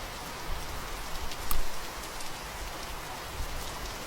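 Heavy rain pours steadily and close by, a dense unbroken hiss of drops striking surfaces with one brief sharper spatter, and no voices over it.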